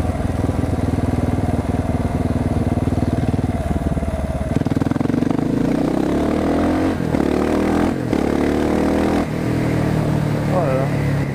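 Husqvarna 701 Supermoto single-cylinder motorcycle engine heard up close and loud, idling with a steady throb, then revving and rising in pitch through repeated throttle blips; a voice is also faintly present.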